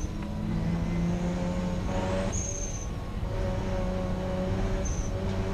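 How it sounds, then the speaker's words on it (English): A safety car pulls into the pit lane at Brands Hatch during a Thunder Saloons race, its engine drone steady and loud amid a wash of circuit noise, with faint high whines overhead. "Pace car pulling into the pit lane."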